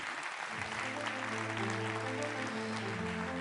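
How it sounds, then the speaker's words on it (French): An audience applauds at a regional French contest showcase, a steady wash of clapping heard alongside sustained harmonic tones, likely background music, running under the applause throughout. "Vous les applaudissez tous les 3, s'il vous plaît."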